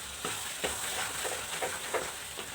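Grated carrot halwa frying in ghee in a pan, with a steady soft sizzle and periodic scraping stirs of a spoon against the pan, no talk.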